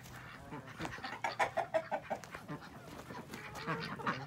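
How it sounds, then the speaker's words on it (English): Hungry ducks quack and chatter near a farmyard with hens, a rapid run of close, overlapping calls that peaks midway and then eases into softer babble. "The ducks want some too."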